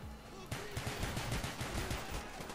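Rapid, loud pistol shots in Call of Duty: Black Ops burst in after a short quiet lead-in, firing in a fast uneven string of cracks over game ambience.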